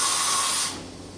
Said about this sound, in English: We're doing a tool change right now, or simulating it.